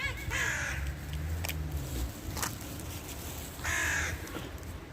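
Crows cawing outdoors in Istanbul, several harsh calls in separate bursts, fairly close, over a low rumble of background noise and with no speech.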